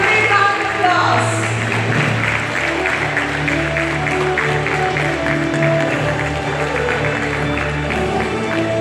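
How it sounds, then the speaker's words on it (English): Loud, sustained applause from a graduation ceremony audience honouring a graduating student, dense clapping that stays steady throughout with a brief raised cheer near the start. "Give her a big round of applause."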